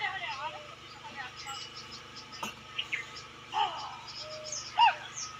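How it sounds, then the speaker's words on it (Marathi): Busy chirping of sparrows scattered across the clip over a steady insect drone in a muskmelon field, with a few louder close calls. "चिमण्यांचा कोक्यांचा चिचवाट चालू आहे"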